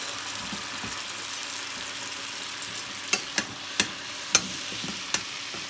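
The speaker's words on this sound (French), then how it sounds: "Alors là, je verse maintenant, il est temps mon coulis." Coulis poured into a hot pan gives off a steady, broadband sizzling hiss, with a few sharp utensil clicks near the end and no voices.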